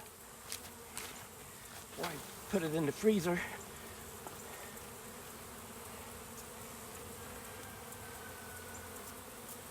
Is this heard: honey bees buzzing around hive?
yes